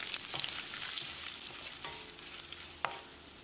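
Steady sizzling of spices and asafoetida frying in hot oil for a tamarind curry, with a few scrapes and taps of a spoon stirring the pan, close and fairly quiet.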